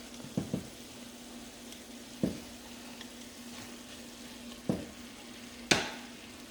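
Ground meat for cheesy homemade sloppy joes fries quietly in a pan while a utensil stirs and scrapes it, producing a few soft, scattered clanks over a low, steady background hum.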